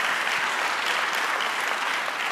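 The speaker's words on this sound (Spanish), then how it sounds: "Denle un aplauso" Dense, continuous applause from a large church congregation during a sermon, loud and even throughout with no letup.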